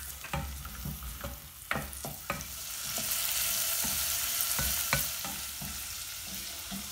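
Ginger and garlic sizzle in oil over medium heat for a Kerala-style chicken curry, with a utensil scraping and tapping the pan in irregular strokes over the steady frying hiss.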